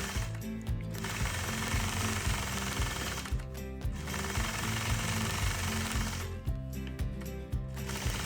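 A quilting sewing machine stitches in the ditch between quilt blocks, a steady rapid mechanical chatter running continuously throughout, loud and close, with brief pauses near the middle and end.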